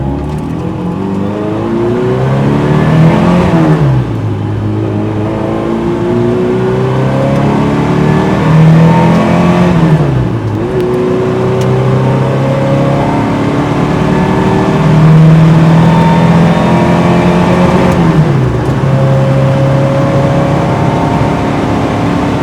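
An MGB autocross car is driven hard close up, its engine climbing through repeated rising revs, dropping sharply at each gear change near 3.5, 10 and 18 seconds, then pulling again.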